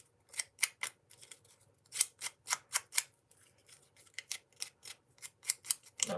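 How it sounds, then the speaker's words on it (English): Scissors blades are scraped along a paper edge to distress it for a shabby Valentine craft, a quick series of crisp rasping strokes, close and clear in a quiet room. "Just going to run my scissors on that edge."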